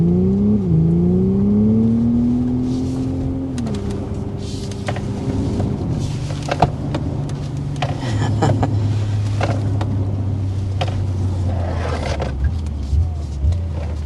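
A Hyundai IONIQ 6 N electric performance car weaves through a slalom in normal drive mode, its synthesized engine note rising and falling with steady whine and tire noise, loud and close throughout without talk.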